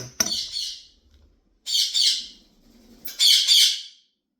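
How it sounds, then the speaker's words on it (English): A pet bird lets out three sharp squawking chirps as it flies down indoors, each call a short bright burst separated by brief silences, with no one speaking. "My bird just flew down here."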